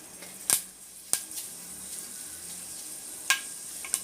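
Fenugreek seeds dropped into hot oil for poondu kulambu crackle with a few sharp, bright pops over a soft continuous sizzle, close and fairly quiet, no talking.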